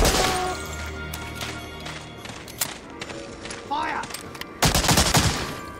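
Gunfire in the video game Medal of Honor: Allied Assault, Operation Torch mission: loud, rapid bursts of shots and sharp impacts, with voices talking between and over the firing.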